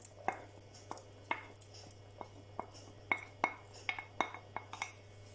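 A utensil knocking and scraping in a pot while mushroom soup with sautéed onion and butter is stirred, giving a run of light irregular clinks and taps, close and fairly quiet, with no talk.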